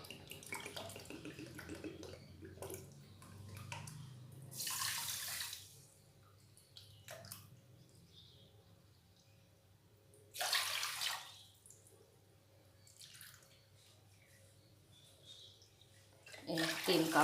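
Water poured from a measuring cup into a pot of sugar for Bengali rosogolla syrup, a quiet splashing stream under faint kitchen noise, with brief louder gushes.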